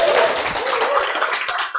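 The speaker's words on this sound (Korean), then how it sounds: "여러분 힘차게 박수 치시고 함성을 지르셔서" A lecture audience at a health talk claps and cheers together, a dense burst of applause with shouts that fades toward the end, with some voices mixed in.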